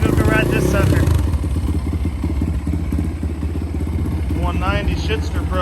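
A 1985 Honda ATC350X three-wheeler engine runs with a loud, rhythmic thumping idle and mechanical clatter, with brief revs near the start and end and a voice talking over it.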